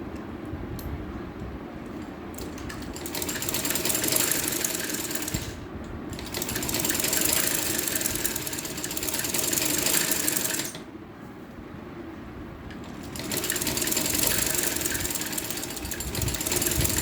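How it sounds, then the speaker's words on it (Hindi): Stitching along the open slit of a shirt, a sewing machine whirs close by in fast, steady runs, stopping briefly twice before starting up again. "यहाँ पे भी एक स्टिचिंग लगा लें"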